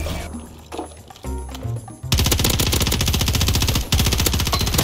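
Rapid automatic gunfire in a video game shooter, loud dense bursts taking over after a quieter opening and continuing steadily with a brief dip near the end.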